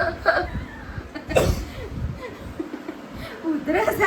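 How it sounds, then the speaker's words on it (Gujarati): A young child coughs a few times after a bout of shouting at home, the rough bursts close by and mixed with chuckles and voices. "ઉધરસ આવી ગઈ રાડો પાડી પાડી"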